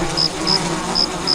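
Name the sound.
bees buzzing in the video game Biosys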